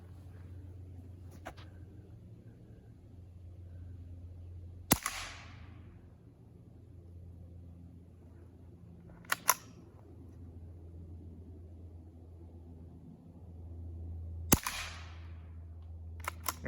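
Quiet rimfire rounds fired from a rifle outdoors give three sharp, fairly soft cracks spaced several seconds apart, with a few fainter ticks and low steady background rumble between shots.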